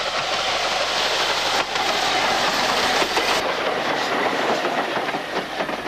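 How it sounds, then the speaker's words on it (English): The A4 steam locomotive Sir Nigel Gresley rolls along the Great Central Railway at Kinchley Lane during a steam gala, its carriages giving a steady, fairly loud rumble and rhythmic clickety-clack of wheels on track. "A4 Sir Nigel Gresley was a major attraction at the Great Central Steam Gala over the weekend of the 15th and 16th of October"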